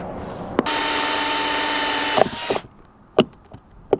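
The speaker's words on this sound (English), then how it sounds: "It's a 3/4-inch hole, and I'm using this Forstner bit." A Forstner bit in a power drill bores a 3/4-inch hole through a thick RV roof, a loud steady grinding whine of about two seconds that stops abruptly, followed by a few light knocks.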